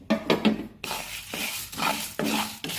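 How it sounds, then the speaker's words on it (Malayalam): Spices dry roasting in a pan for Chettinad chicken curry, heard as repeated scraping and stirring strokes with clinks of a utensil against the pan, close and fairly loud, with no talking. "ഇവയെല്ലാം നന്നായിട്ട് വറുത്തെടുക്കുക."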